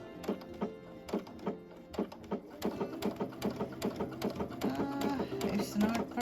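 A Brother Luminaire XP2 sewing machine stitches fabric in quick, rhythmic mechanical bursts that speed into a steady run, up close, with a person talking quietly over it.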